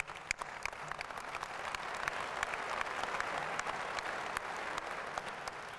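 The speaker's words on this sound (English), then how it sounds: "We've got a good cheering gallery for the PhDs" A graduation audience applauds the new PhDs at a university commencement, a continuous roomful of clapping that swells slightly and holds steady, with no voices over it.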